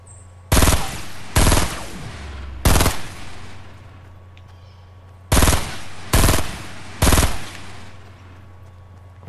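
Destiny 2 weapon fire comes in six loud, sharp shots heard up close, three spaced about a second apart, then a pause, then three more in the same steady rhythm, with a faint hum and ambient game noise beneath.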